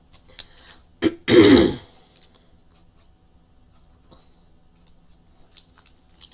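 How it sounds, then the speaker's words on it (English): A single harsh throat clearing rings out near the mic, preceded by a brief click and followed by quiet small handling sounds. "I think that's why I keep clearing my throat"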